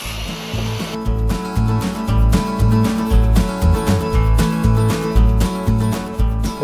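A saw rips a cedar fencing plank lengthwise, loud and close, with repeated strokes cutting in and out in a rough rhythm of pulses, heard alone without any voices.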